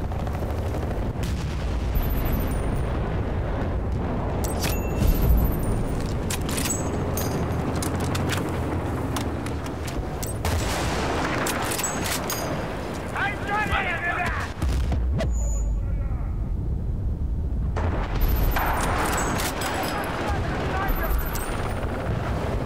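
Mortar strike blasts land in Battlefield Bad Company 2, rumbling bursts of game explosions and gunfire spread across the span with players talking over them.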